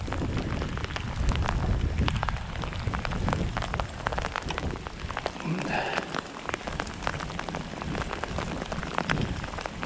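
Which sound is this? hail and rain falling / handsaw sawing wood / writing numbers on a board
hail and rain falling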